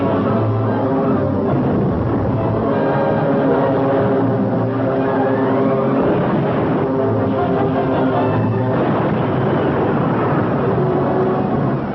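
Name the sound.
WWII military aircraft flying in newsreel footage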